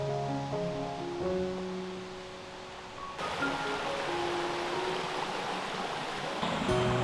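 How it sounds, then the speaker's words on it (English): Ring Brook flowing along a rocky bank on the Mary Edwards Mountain property, a steady broadband rush of water that grows louder partway through, with faint tonal sounds in the background. "Continue to follow the Yellow Trail towards the sound of flowing water to reach Ring Brook."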